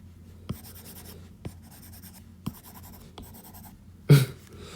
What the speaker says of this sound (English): I'm going to erase this here.